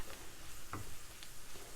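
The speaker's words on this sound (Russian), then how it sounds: "желудочки жарятся" Chicken gizzards fry in a pan, giving a soft, even sizzle with a few faint clicks of stirring, quiet and steady throughout.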